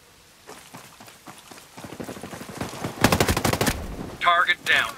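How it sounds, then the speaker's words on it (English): Enemy gunfire in the tactical shooter Ghost Recon Breakpoint, set at a freight yard: scattered distant shots build into a dense, loud burst of rapid automatic fire, followed by a few sharp, ringing impacts. "I'm hearing enemy fire."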